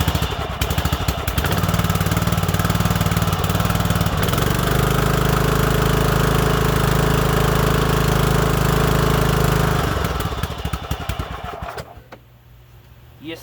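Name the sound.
engine running after valve lash adjustment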